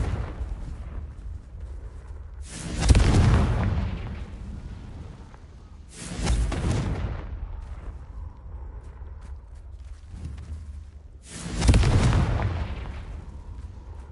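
Three heavy booming blasts of the Confringo explosion spell in Hogwarts Legacy, spaced a few seconds apart, each a loud deep burst with a rumbling tail over a low steady background.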